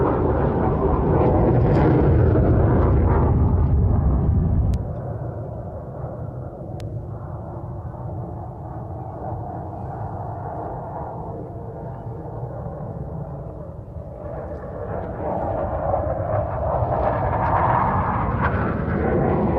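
A double delta wing jet aircraft at an airshow roars loudly overhead, its broad engine rumble easing to a steadier drone before swelling again near the end.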